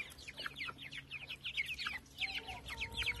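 A mother hen clucks softly and repeatedly among her chicks, with high chick peeps mixed in at close range and no talk.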